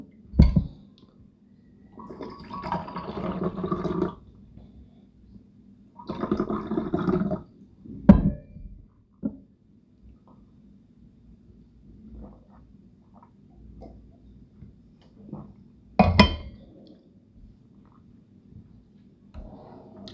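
Someone drinks water from a glass in a quiet room, with a few separate bursts of sipping and swallowing set apart by near-silent pauses and a couple of sharp little clinks, all close by.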